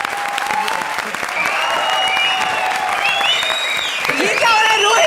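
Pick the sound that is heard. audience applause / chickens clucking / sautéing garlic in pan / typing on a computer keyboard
audience applause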